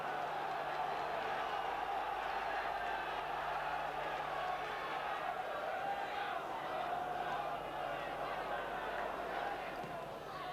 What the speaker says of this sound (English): The crowd right behind them now.